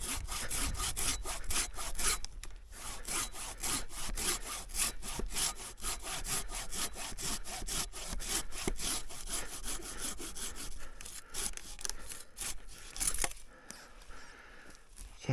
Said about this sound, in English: Love the big boy silky folding saw. Works great.